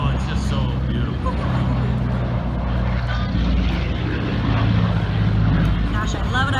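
A propeller aircraft flies past at an air show in Missouri, a sustained droning engine roar that swells slightly toward the end, heard under continuous talk.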